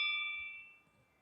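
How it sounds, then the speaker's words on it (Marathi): A single bell struck during a Marathi religious discourse for Datta Jayanti, a clear ringing tone fading slowly over about a second, alone with no talk. "आता घंटा पण कोणाला हे करू देऊ नका."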